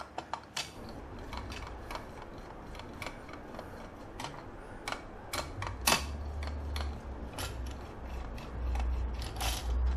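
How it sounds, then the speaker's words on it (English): Screws being undone on the blade disc of a Mammotion Luba 2 X robot lawn mower, a run of quick irregular clicks and ratcheting ticks from a hand tool, close-up with faint background hum. "So 3 screws in the middle of the disc, the blade disc, to take the blade disc off."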